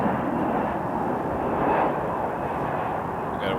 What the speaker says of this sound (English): We got a WestJet though.